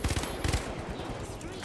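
Rapid turret fire in a video game, a loud close burst of rattling shots at the start, then a second burst, tailing off into quieter background noise.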